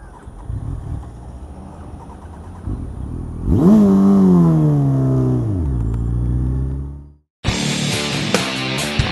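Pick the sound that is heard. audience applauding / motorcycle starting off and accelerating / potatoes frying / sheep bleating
motorcycle starting off and accelerating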